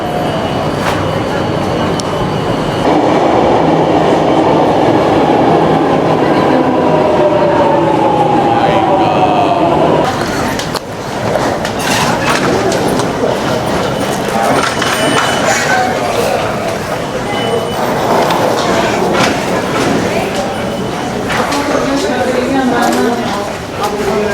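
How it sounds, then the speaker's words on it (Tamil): A yellow line metro train pulls into a station, rumbling and rattling loudly with rising rail noise and clatter before the carriages roll in close and stop, while someone talks over it. "பார்ப்போம் மஞ்சள் கலர் மெட்ரோ எப்படி வருதுன்னு"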